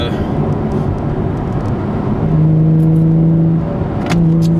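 Nissan 350Z/370Z with an Invidia Gemini cat-back exhaust and Berk Tech high-flow cats, in fourth gear above 3,000 rpm, heard from inside the cabin as a loud, steady low drone that settles into a sustained humming tone, without talking.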